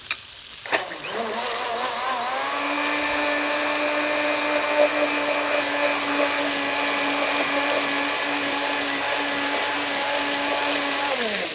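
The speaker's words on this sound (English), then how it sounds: "I'm just going to buzz this up a little bit." A hand blender whirs loudly and steadily as it purees tomato soup, its motor tone holding a constant pitch, running continuously after a brief start.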